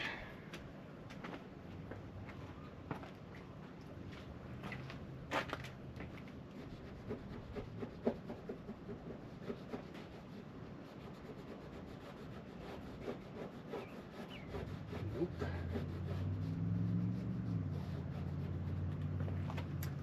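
Cloth and rubbing alcohol scrubbed against a window on an off-grid cargo trailer camper conversion, close repeated rubbing and scraping strokes, with a low engine-like hum rising in the last few seconds.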